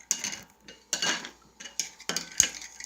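A spoon knocks and scrapes against a bowl while an orange crunch gum mixture is stirred, giving four or five short clattering bursts separated by brief pauses, close and fairly quiet.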